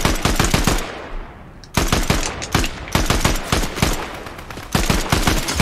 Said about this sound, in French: C'est un fusil tac tac, un fusil d'assaut sniper un peu.